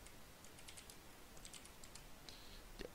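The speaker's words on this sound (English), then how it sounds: "Go ahead and type your name, man." Light clicking of keys on a computer keyboard, a quick irregular run of taps with short pauses, quiet and close with no talk.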